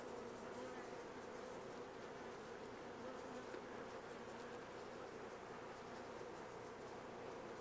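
Honey bees swarm around an open hive in a dense, steady buzzing drone that stays constant and close throughout, with no talk.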